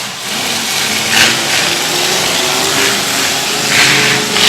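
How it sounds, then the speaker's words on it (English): Demolition derby car with throttle trouble, its engine droning loud and continuous with a couple of uneven revving swells amid broad crowd and arena noise, no talking. "The number 34 is Austin Smith having throttle trouble"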